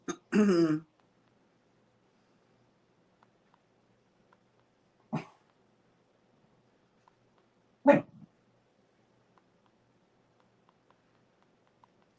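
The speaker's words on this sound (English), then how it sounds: "Why are you barking, Parker?" A dog barks in three separate bursts, one short, loud bark-like yelp at the start followed by two sharper single barks spaced a few seconds apart, with near silence between them in a quiet room.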